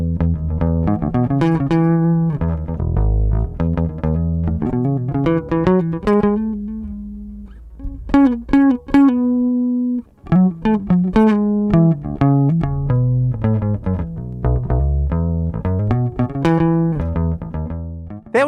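A first quad bass, a modified Guild Starfire known as Big Brown, plays a busy, melodic bass line of punchy, ringing notes with brief pauses, played alone and up close.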